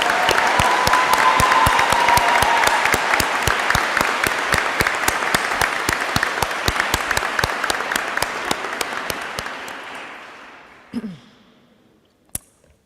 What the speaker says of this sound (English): can we just give one more round of applause to Emma Soktoma and Bev Miller?